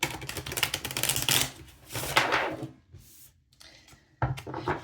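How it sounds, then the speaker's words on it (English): A tarot card deck being shuffled by hand, rapid riffling bursts of flicking cards with short pauses between them, close and crisp with no talk over it. "I'm going to give your deck a good shuffle"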